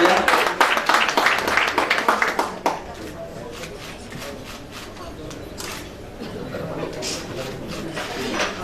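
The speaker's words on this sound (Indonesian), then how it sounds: "Beri tepuk tangan Bapak Ibu ya." Audience applause at a business MoU signing ceremony between PT SOOQY and Bank Permata Syariah: dense, fairly close clapping for about two and a half seconds, then dropping away to quiet room noise.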